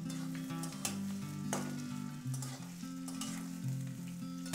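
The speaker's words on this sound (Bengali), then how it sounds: "পেঁয়াজটা কিছুক্ষণ ভেজে নেব।" Onions frying in a pan with cinnamon and cardamom, a continuous soft sizzle and crackle with occasional stirring clicks, under a faint tonal background hum, no talking.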